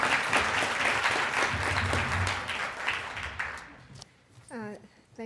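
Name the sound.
applause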